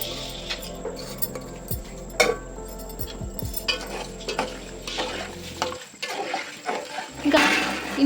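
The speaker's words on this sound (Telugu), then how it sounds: "ఈ నెయ్యిలోనే వాటర్ అయితే వేసేసుకుంటున్నా." Water poured into hot ghee in a kitchen pan, giving a brief hiss and bubbling among clattering pan and spoon noises, with scraping and stirring close by.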